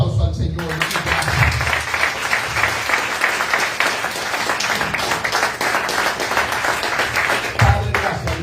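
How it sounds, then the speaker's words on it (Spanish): A church congregation breaks into loud, sustained applause for the Lord, dense clapping filling the space for several seconds, with voices mixed in beneath. "Fuerte aplauso al Señor."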